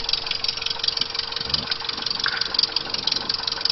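A model airplane engine, just started with an electric starter, idles in a rapid, steady buzzing putter close by, holding an even pitch throughout.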